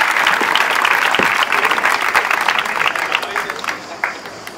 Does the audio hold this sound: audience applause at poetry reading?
yes